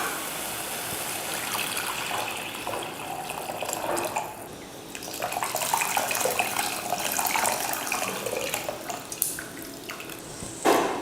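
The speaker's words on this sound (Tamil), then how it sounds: "வதக்கிட்டு அடுத்து புளி தண்ணி சேர்த்துடலாம்." Tamarind water pours steadily into a pot of rasam, a continuous close splashing and trickling that runs for about eleven seconds and swells briefly near the end.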